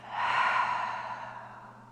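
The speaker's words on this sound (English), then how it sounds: "And a big breath through the mouth." A single deep exhale out through the mouth during a prenatal birth-prep yoga class, a close, breathy whoosh that swells quickly and then fades gradually over about two seconds.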